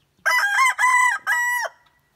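A rooster crows three times in quick succession, a loud, close, harmonically rich cock-a-doodle-doo with short gaps between calls and no talking.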